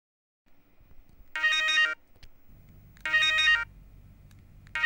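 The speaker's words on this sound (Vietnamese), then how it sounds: "điện thoại reo nè" A telephone rings in two clear electronic bursts separated by a pause, fairly close, with faint low room noise between rings and no talk.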